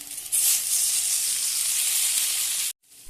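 Lentils hitting hot oil already holding lightly fried onion, a bay leaf and cinnamon bark: a loud, bright, continuous hiss of sizzling that runs steadily, then cuts off abruptly near the end.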